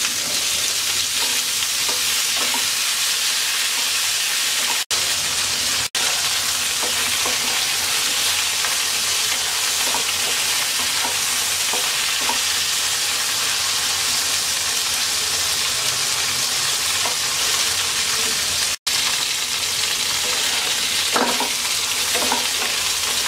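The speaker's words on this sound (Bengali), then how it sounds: "ভেন্ডি ভেজে নেওয়া হয়ে গেছে, তুলে নিচ্ছি।" Okra (bhindi) fries in about a tablespoon of oil, giving a steady, loud sizzle that lasts throughout, with occasional stirring scrapes and a couple of brief gaps.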